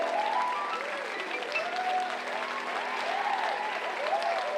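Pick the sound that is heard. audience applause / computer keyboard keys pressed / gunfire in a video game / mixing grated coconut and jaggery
audience applause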